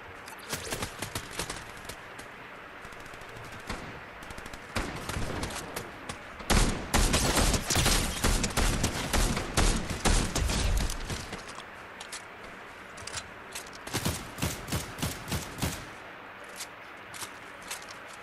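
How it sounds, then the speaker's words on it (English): Gunfire in the video game Fortnite, with dense rapid bursts of shots and crackling volleys that swell loudest midway and continue in shorter rattling bursts, with no talking. "That guy was shooting at me."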